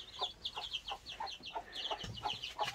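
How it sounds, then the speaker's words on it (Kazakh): Three newly hatched chicks peep in quick, high-pitched bursts, repeating steadily up close, with a lower cluck near the end. "Үйден шыққан үш балапан мына жерде тұр."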